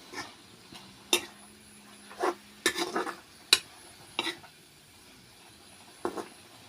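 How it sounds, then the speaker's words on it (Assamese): Greens stirred in a pan with pounded ginger, garlic and green chili, giving a handful of scattered spatula scrapes and light clinks against the metal, separated by quiet pauses, with no voices. "অকণমান লৰাই ল'ম"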